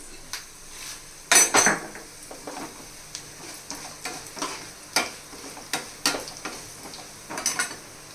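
Mustard seeds, fenugreek and urad dal fry in hot oil for a tempering, giving a soft sizzle broken by sharp clinks of a spoon on the pan and small scattered pops.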